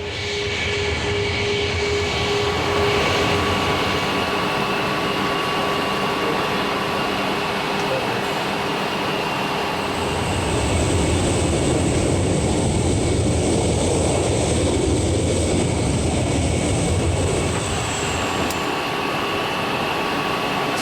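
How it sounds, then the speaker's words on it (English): Aircraft engine drone from trainee planes flying circuits and practicing landings at Shannon, a continuous loud roar that swells and shifts in pitch with a high whine entering midway, heard alone without talk. "the new recruits take to the skies, flying circuits, practicing those all-important landings"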